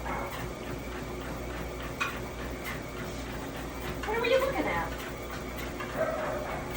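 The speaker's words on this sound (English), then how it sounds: "Oh, dog barking. I hear it." A dog barks faintly in the distance, a short burst of yelps behind steady nearby talk and a treadmill's running hum.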